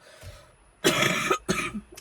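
A person coughs twice in quick, harsh bursts close by, after a faint brief throaty sound at the start.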